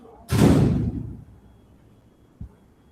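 A door slams shut nearby in a room, one sharp loud thud with a short resonant tail, followed about two seconds later by a faint small knock.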